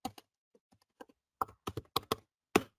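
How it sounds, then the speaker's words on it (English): Someone types a command on a computer keyboard, with crisp close key clicks coming in uneven bursts, a few scattered taps and then a quicker run of strokes. "So I'm typing in the command"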